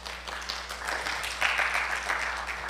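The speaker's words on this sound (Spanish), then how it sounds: "Dale un aplauso al Señor." Applause from a church congregation during a Spanish-language sermon, a steady wash of clapping throughout, moderately loud and fairly dense with no voices over it.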